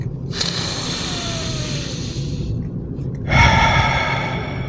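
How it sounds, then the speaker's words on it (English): Two deep, loud breaths close up, a long airy inhale through the nose, a pause, then a forceful rushing exhale, with no talking. "Breath number 2. Big one."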